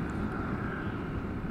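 A Yamaha NMAX 155 scooter engine with a quick shifter hums in a steady, loud drone near the throttle, held evenly for a brief moment with no talk.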